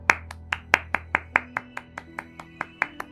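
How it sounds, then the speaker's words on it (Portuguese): Hand clapping: about a dozen sharp, evenly spaced claps at a brisk, steady pace, fairly close, over a faint low background tone. "Palmas aí."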